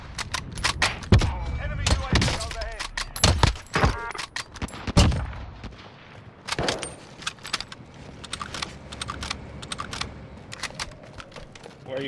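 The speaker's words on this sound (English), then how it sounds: "Where are you boys shooting at?" Gunfire in Call of Duty: Modern Warfare, with rapid bursts of sharp shots and clattering, dense and loud in the first half, then sparser and quieter while voices talk over the action.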